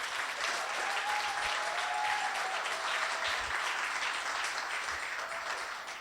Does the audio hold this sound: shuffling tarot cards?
no